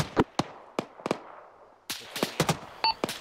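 Nearby gunfire in Arma 3 during a USMC landing operation: sharp, separate cracking shots in uneven rhythm, then a denser cluster of rapid reports, loud and close against a quiet background.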